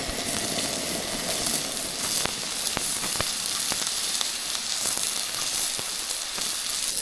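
Steak sizzling in a hot pan at a campsite, a loud, steady hiss and crackle with occasional sharp pops, close and unbroken, no talk.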